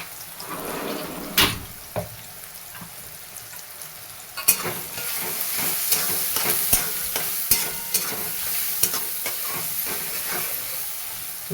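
Peanuts and poha with turmeric and salt being sautéed in a pan for kanda poha, a steady sizzle with a sharp spoon scrape every second or so, close by and with no voices.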